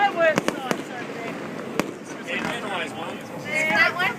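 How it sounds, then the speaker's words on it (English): Australia Day fireworks display at Cronulla: sharp distant bangs and pops burst at irregular intervals, followed by crackling sparkle, while people talk nearby. "There's 4 different fireworks sites over there."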